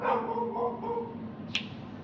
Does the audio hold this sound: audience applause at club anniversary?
no